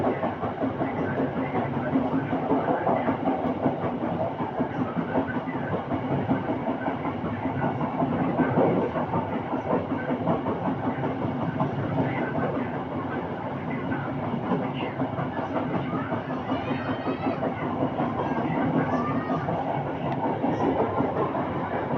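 KA Serayu passenger train running toward Leles station, heard as a steady, loud rumble of wheels and carriage noise that continues without a break from start to end.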